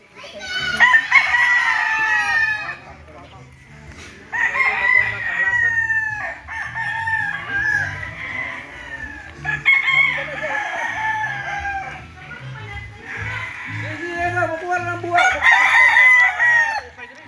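Roosters and hens in a yard of fighting cocks crow and cluck close by, with several overlapping loud crows and steady clucking that go on throughout.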